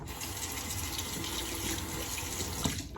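Cold tap water runs steadily into a sink as a razor is rinsed under it, a close, continuous gushing stream with a brief clink near the end.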